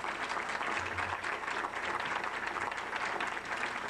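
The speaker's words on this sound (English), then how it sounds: "how about a round of applause for the musicians who entertain us during the reception?" An audience at an evening reception event applauds the musicians, a dense, even wash of clapping that holds steady for several seconds, moderately distant and fairly quiet, with faint murmurs underneath.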